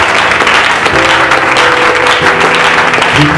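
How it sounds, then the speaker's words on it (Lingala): A church congregation applauds for God, a dense, steady wash of many hands clapping that stays loud and unbroken throughout, with faint tonal sounds beneath. "Est-ce que quelqu'un peut acclamer pour Dieu?"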